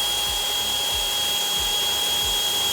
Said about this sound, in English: We will just begin by drilling those out.